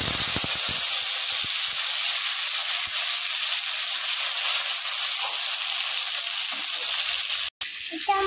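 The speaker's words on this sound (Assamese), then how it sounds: "এতিয়া মই কেৰাহীত বিলাহী দি দিম" Tomatoes dropped into hot oil with tempering spices in a wok, making a loud, steady, close sizzling hiss that runs almost without pause for the whole stretch, as part of cooking a moong and masoor dal.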